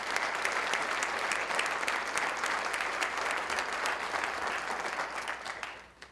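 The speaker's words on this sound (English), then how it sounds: "that deserves a round of applause" Luncheon guests at a county chamber address break into hearty applause, a dense, even roar of clapping that holds for about six seconds before tapering off at the end.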